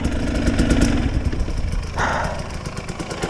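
A 2021 GAS GAS 250 EC two-stroke enduro motorcycle runs nearby with a steady, rapid putter, briefly revving up mid-way before settling again, loud and continuous with no voices.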